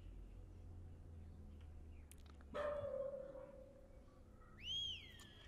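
A video game dog gives a single bark, followed by a drawn-out whimpering whine that rises at the end, heard alone over a quiet background.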